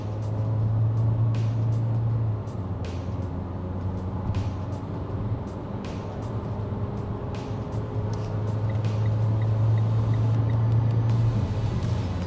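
A 2020 Mitsubishi Eclipse Cross accelerates toward highway speed at about half throttle, its transmission mimicking upshifts: a steady, fairly loud engine and road drone whose pitch settles and steps through the run, with no talking.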